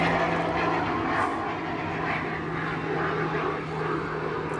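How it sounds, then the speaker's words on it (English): Small single-engine propeller plane with its prop at the nose, a steady droning buzz like a noisy moped motor passing overhead, continuous and fairly loud with no talking. "It's that guy with the tiny little plane with the propeller right at the front thing. Like the really noisy moped engine plane."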